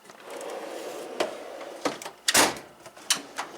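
A toolbox drawer slides open with a few short metallic clunks and rattles of loose tools inside, close and fairly quiet against a faint background hum.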